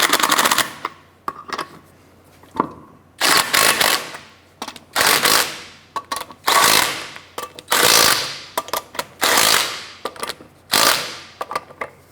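Bursts from a power tool, likely an impact wrench, snug down the wheel lug nuts on a 2006-2013 Chevrolet Impala, about nine loud, close rattling bursts in a steady rhythm with short pauses between them and no talk.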